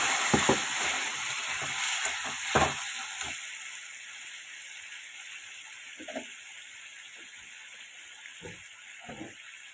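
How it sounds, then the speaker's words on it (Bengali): Loud sizzling hiss as water hits a hot pan of fried spice paste, easing into a quieter bubbling simmer with occasional stirring clinks. "পুরো মশলাটা কষানো হয়ে গেছে, এবার দিয়ে দিচ্ছি আমি জল।"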